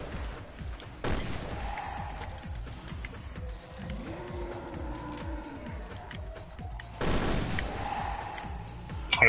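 Burst-fire shots from a gun in Resident Evil Revelations 2's Raid Mode crack out in short clustered volleys, with two louder broad bursts standing out against a steady ticking game background.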